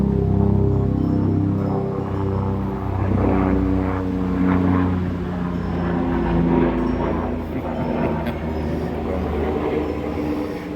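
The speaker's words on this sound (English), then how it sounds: "Sorry, the helicopter's flying by." A loud, steady helicopter drone with a rotor-like throb fills the whole stretch, holding close and constant overhead without fading.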